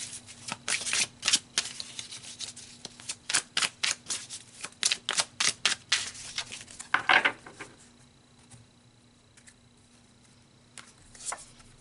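Tarot cards are shuffled in quick riffling bursts close to the microphone for about eight seconds, then the sound drops to near silence with one last soft rustle at the end.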